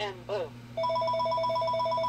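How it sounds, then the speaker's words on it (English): A phone ringtone breaks in with a steady repeating electronic trill, loud and close, right after a brief spoken phrase, continuing evenly through the rest of the moment. "Somebody's calling me."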